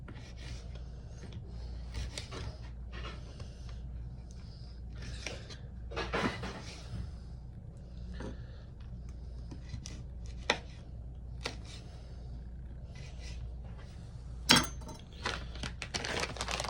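Knife chopping already julienned sun-dried tomato into smaller bits on a board, irregular light taps and scrapes spread across the stretch, with a couple of sharper knocks near the end.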